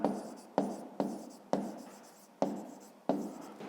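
A math solution written by hand in a notebook for a fifth-grade exercise, five or six scratchy pen strokes, each starting sharply and trailing off, close and quiet in an otherwise still room.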